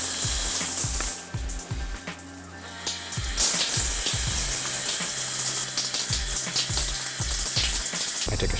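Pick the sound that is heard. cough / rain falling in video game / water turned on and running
water turned on and running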